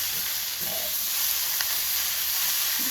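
Quail stir frying with basil in a hot pan for a Cambodian dish, a steady close sizzle and hiss running throughout, with faint stirring scrapes.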